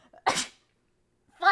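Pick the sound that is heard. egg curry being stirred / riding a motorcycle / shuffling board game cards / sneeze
sneeze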